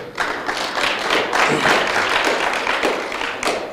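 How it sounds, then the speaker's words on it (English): An audience at a marketing seminar claps, a loose crowd of hands with some distinct nearby slaps standing out of the wash, rising and swelling for a few seconds. "Give yourselves a round of applause."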